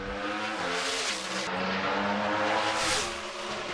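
Pro Stock drag racing cars at NHRA Bristol roar loudly with naturally aspirated engines, a dense sustained engine howl that rises and shifts pitch as the cars run down the track, with no talk.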